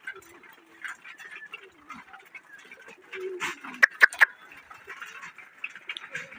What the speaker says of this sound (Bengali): এই কবুতরগুলো নামতেছে